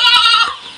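A large goat gives one brief, loud, nasal bleat close by, wavering and fading away within a second.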